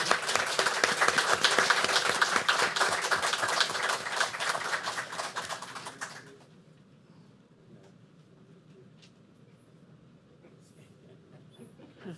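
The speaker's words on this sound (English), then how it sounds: "Let's give them a round of applause." Audience applause at a school board meeting, loud sustained clapping from a crowd for about six seconds that stops abruptly, leaving quiet room tone with faint murmurs.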